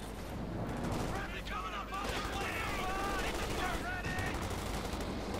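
Battle sounds in the strategy game Company of Heroes 2, a dense, continuous roar of gunfire and explosions with a Panzer IV and a Pershing tank trading fire, heavy throughout, with a voice talking over it.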